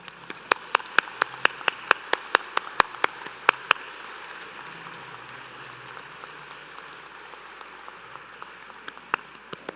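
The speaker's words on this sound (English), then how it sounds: "Let's all give them another round of applause." Scattered hand claps at first, then a sustained round of applause from a crowd, fairly distant, fading to a few lingering claps near the end.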